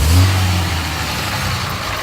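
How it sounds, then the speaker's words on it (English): A lifted 2004 Dodge Ram 2500 SLT 4x4 with a 5.9L turbo diesel engine revs with a loud low rumble close by, then settles into a steady drone as it pulls away, no talking. "So I'm gonna drive off and hope you guys like it."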